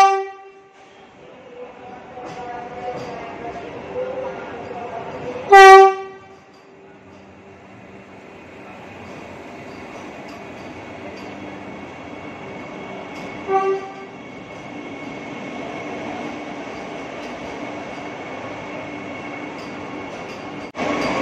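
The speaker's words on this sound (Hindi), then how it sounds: "सो वेट कर रहे हैं वंदे भारत एक्सप्रेस की, जब आती है आपको दिखाता हूँ।" A Vande Bharat Express train arrives at an Indian railway station with a steady rolling rumble, broken by two loud horn blasts, the first long and strong and the second shorter.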